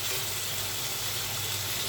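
Water poured into a frying pan of spiced taira fish, giving a steady broadband hiss and sizzle that stays even and moderately loud for the whole stretch, with no voices.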